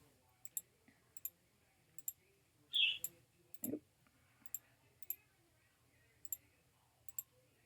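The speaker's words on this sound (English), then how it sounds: "Click on each letter part" Computer mouse clicks repeat at a steady pace while someone works through a Cricut Explore design on screen. Each click is sharp and close, and a couple of brief thumps fall in between. Faint voices murmur in the background.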